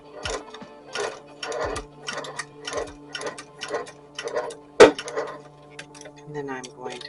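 A sewing machine stitches a dress towel topper with a steady, close mechanical chatter that comes in short repeated bursts about twice a second, briefly broken by a sharp clack partway through.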